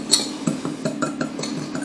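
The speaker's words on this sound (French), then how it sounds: "je vais les mélanger à l'aide d'un fouet" A whisk clinks against a bowl while mixing dry keto bread ingredients, a quick run of light metallic taps and scrapes, close and fairly soft.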